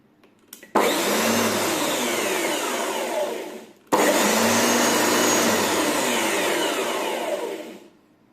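A Bosch ARM32 electric lawn mower, under repair for a faulty switch contact and with its pulley and belt replaced, whines loudly in two steady bursts of about three and four seconds separated by a brief stop.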